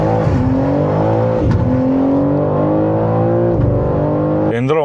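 A BMW M3 G-Power Competition with the S58 engine revs hard through the gears, loud and close, with a rising drone broken by quick upshift dips before the next pull.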